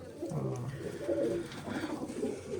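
Old pigeons kept by a pigeon fancier give low, soft coos close by, several murmured calls running together over a steady background hum.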